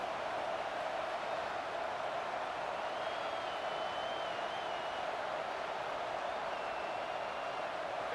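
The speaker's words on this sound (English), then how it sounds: "This Auburn crowd trying to conjure up a little magic here on third down" An Auburn college football stadium crowd roars on third down against Texas A&M, a constant wash of distant cheering and crowd noise with no break.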